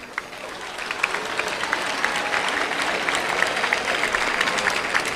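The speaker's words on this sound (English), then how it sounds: "Give yourselves a round of applause" An audience at a talk on art and social activism breaks into applause for itself, the clapping swelling quickly from a quiet start into a full, even crowd sound with some voices beneath.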